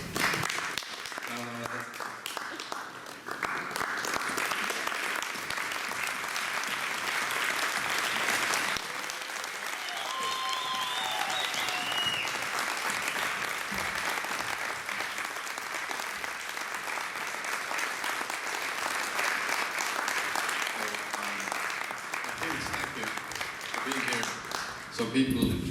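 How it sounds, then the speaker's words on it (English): Audience applause in a conference hall fills the whole stretch, starting softer with a few scattered claps and swelling into steady, dense clapping that holds loud, with brief crowd noise mixed in. "So a really quiet applause is down here, and when I raise my hand, we're going to go really loud."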